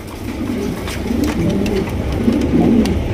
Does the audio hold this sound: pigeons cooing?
yes